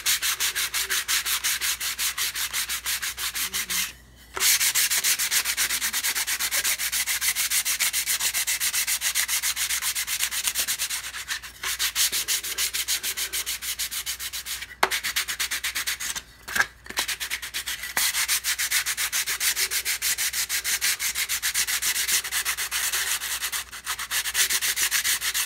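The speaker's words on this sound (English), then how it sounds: "Next, we're going to sand it with a fine grit sandpaper of some number" Wood sanded by hand with fine 320-grit sandpaper, a loud, steady rhythmic rasping that runs continuously with only a few brief pauses, close up and with no talk.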